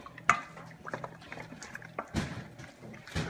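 Chicken wings being tossed and stirred in a spicy pepper sauce make wet, sticky squelches and soft clinks against the bowl, intermittent and fairly quiet, with a few sharper taps between the slopping sounds.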